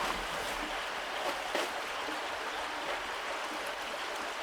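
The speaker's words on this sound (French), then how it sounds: "il y a comme une petite cascade" A small outdoor waterfall in Abitibi gives off a steady, even rush of flowing water at moderate distance, constant throughout with no voices.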